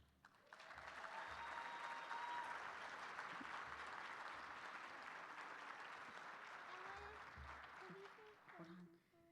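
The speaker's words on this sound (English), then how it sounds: "He wanted to say thank you for clapping." Audience applause at a children's cancer charity gala, sustained clapping from a large room lasting several seconds, with a few voices and a child's sounds mixed in as it fades near the end.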